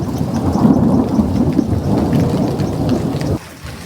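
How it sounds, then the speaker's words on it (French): A violent thunderstorm unleashes heavy rain in a continuous loud roar, with deep thunder rumbling through it before the downpour cuts away abruptly near the end. "l'orage est tellement violent"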